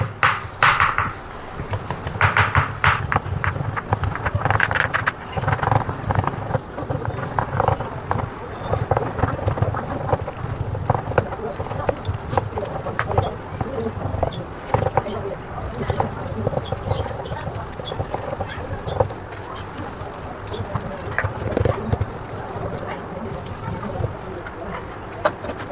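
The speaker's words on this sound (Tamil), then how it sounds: "சும்மா நல்லா கொஞ்சம் வெயிட் ஜாஸ்தியான கத்தி எடுத்துக்கின்னு சும்மா சின்னதாக தட்டிக்கிட்டே இருக்கணும்" A heavy kitchen knife taps and chops repeatedly on a board while momos are being prepared at home, giving a steady stream of close, light knocks under ongoing speech.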